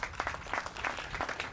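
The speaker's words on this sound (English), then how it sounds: "So let's give him another round of applause." Applause from a crowd at an outdoor Juneteenth celebration in Emancipation Park, Houston, a short burst of scattered clapping with uneven peaks, moderately quiet throughout.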